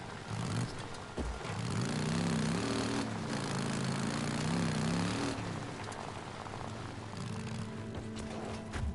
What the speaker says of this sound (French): c'est un peu gâché par le son du moteur